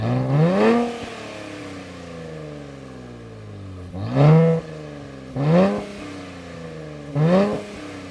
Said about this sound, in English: The sound of the exhaust is nice. It's sporty, it pops.